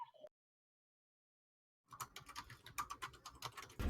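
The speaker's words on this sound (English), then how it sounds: "your keyboard is loud" Rapid clattering keystrokes on a loud computer keyboard, close and busy, starting after a short blip and a long silence and running to the end.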